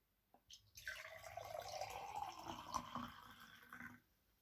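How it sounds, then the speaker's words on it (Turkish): Plain water pours into a glass for about three and a half seconds, a soft, quiet splashing gurgle heard close up and alone. "Bir tane bardağıma sade suyumu dolduruyorum."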